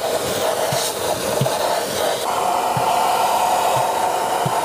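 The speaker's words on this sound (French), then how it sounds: "Avec cet aspirateur spécial, nous sortons les objets de la poudre." A special vacuum pulls 3D printed objects out of loose printing powder, giving a steady, loud rushing hiss of suction throughout, with faint periodic low thumps underneath.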